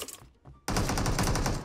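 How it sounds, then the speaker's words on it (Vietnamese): Gunfire is exchanged in PUBG Mobile: a few scattered distant shots, then a sudden loud burst of rapid automatic fire that runs as a dense rattling stream. "Đấy, vẫn đang bắn nhau."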